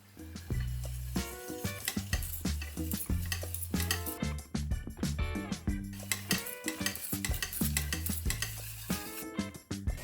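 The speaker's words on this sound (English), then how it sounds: "mix cornstarch, coconut milk and sugar together in a pot" A spoon works steadily through cornstarch, coconut milk and sugar in a pot, giving repeated close scraping and tapping strokes in an uneven rhythm, with no voices.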